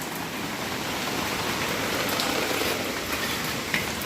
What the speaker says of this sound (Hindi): फिर बारिश शुरू हो गई है यहाँ पे।